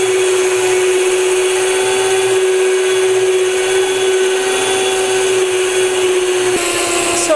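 A budget stand mixer motor runs steadily at a high speed setting while churning flour into dough, a constant loud whirring hum with no bogging or strain, close by and without speech.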